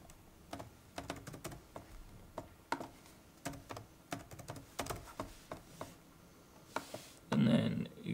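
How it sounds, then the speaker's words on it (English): Keys tapped in irregular bursts on a computer keyboard while filling in a woodwork exam paper, close and fairly quiet, with one louder rustling burst near the end. "These red boxes is where you can type."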